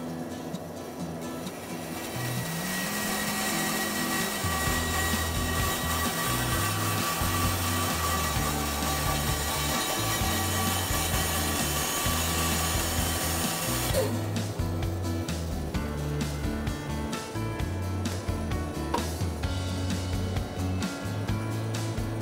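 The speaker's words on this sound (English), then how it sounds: "And then I'll be going to the bandsaw." A bandsaw cuts through a big chunk of wood in a home workshop, a steady loud motor whine and blade hum running continuously for over twenty seconds after a short quiet start, with no talking.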